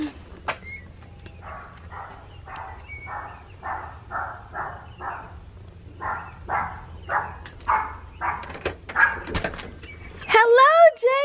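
A dog greets its returning owner at home with a run of evenly spaced barks, then shifts into high, rising whimpers at the end, while a person talks excitedly nearby.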